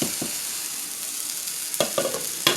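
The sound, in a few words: hog maws and onions frying in a pot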